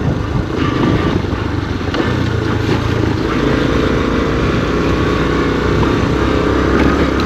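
A 1980 Honda CT110 trail motorcycle rides off-road, its small engine droning loud and steady with a rough, constant rumble and rattle, heavy wind buffeting throughout.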